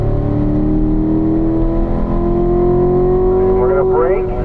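A car driving hard on a race track during a coaching session, its engine droning loudly with a rising tone that climbs steadily, then wavers near the end as it brakes and downshifts to third.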